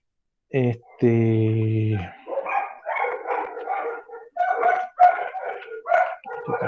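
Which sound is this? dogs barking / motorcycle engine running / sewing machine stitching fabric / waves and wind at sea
dogs barking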